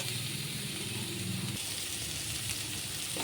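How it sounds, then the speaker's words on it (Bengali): Spice paste cooking down in a pan with a steady, close hiss and crackle that continues evenly from start to finish, with no talking. "এখন আমি মশলাটাকে কষিয়ে নেব"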